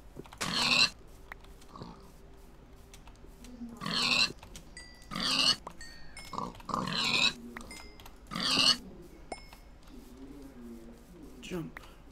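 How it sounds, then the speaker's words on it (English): Pigs in the video game Minecraft oink in about half a dozen separate short grunting bursts spread across several seconds, close and clear, with quiet game sounds in between. "So many pigs."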